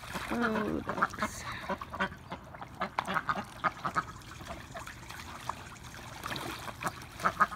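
Ducks quack repeatedly over trickling, splashing water, the calls close and irregular, some overlapping in busy bursts.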